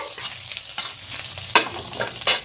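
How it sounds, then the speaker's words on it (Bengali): Crushed garlic hits hot oil in a pan with loud, close crackling and sharp spattering pops, stirred briskly throughout, without any voices. "এখন আমি রসুনটা থেতো করে নিলাম। রসুনটা দিয়ে দেব। রসুনটা একটু ভাজা ভাজা হলে"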